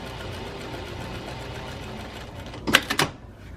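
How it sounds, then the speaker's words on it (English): A sewing machine runs a long basting stitch with a steady, low, fast mechanical whir, ending in a few louder clunks and rattles near the end. "Just start sewing."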